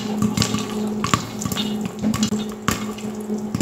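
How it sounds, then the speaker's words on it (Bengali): Corn kernels pop into popcorn inside a covered pan on a stovetop: scattered sharp pops and rattles over a steady sizzling hiss, close and fairly loud. "আপনারা দেখতেই পাচ্ছেন এখনো কিন্তু ভুট্টার দানাগুলো ফুটছে।"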